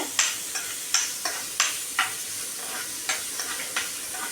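Onions sauté in a pan for ragi adai, a close, steady sizzle broken by repeated crisp spatula clacks against the pan, roughly ten strokes in quick uneven rhythm.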